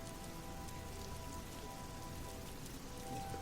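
Steady rain falls continuously on a surface, a dense, even patter with no pauses and no voices.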